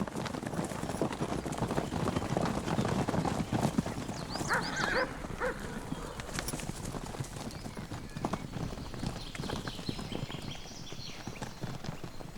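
Steady hoof clip-clop from a konik pony with scattered whinnies and outdoor background noise in Poland, continuous throughout.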